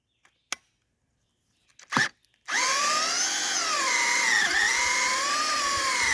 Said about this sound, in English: it's just too much torque for that drill